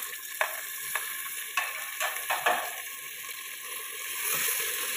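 Mutton with garlic, green chilli and tomato sizzles and fries in a pan with occasional stirring clatter and scrapes, a steady hiss underneath.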